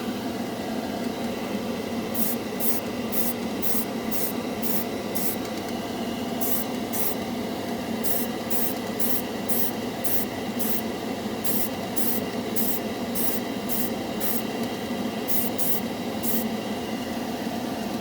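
An airbrush sprays Model Master Metalizer paint in short hissing bursts, roughly a dozen quick pulses in irregular clusters over a constant background hum, close up with no speech.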